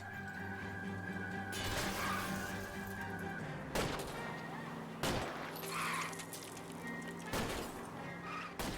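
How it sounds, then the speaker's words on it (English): Gunfire in the video game L.A. Noire as shots are aimed at a fleeing car's tires: several loud, sharp reports spaced a second or two apart over a steady engine and road drone, with crashing impacts mixed in. "I'll try to shoot out his tires."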